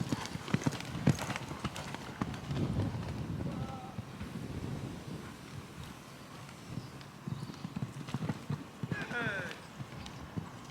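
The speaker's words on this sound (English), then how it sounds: "This is a good canter." A horse canters outdoors at a showjumping clinic, with hoofbeats thudding in a rolling three-beat rhythm against wind noise and occasional talk.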